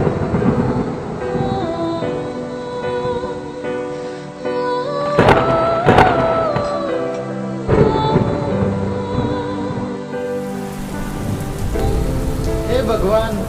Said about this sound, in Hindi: रात में बहुत तेज बारिश होने की वजह से उसकी सारी फसल खराब हो जाती है।